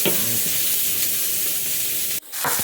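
Hotdogs fry and get stirred in a pan while pork menudo is being made, a steady loud sizzle with scraping stirs, briefly cut off near the end before the sizzling resumes.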